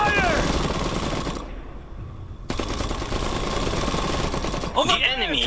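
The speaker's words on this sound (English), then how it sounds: "We're under fire!" Machine gun fire from the Iron Harvest strategy game comes in dense, rapid bursts of battle noise with clanking and whining effects. Voices speak over it almost throughout.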